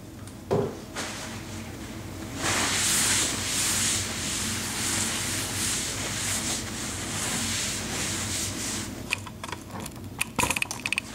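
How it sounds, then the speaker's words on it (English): Method all-purpose cleaner is sprayed onto kitchen counters and the backsplash, with a long continuous hiss of spray, a few quick bumps and clicks at the start and end, close by, with no one talking. "I just give a good spray, and then I spray the black splash,"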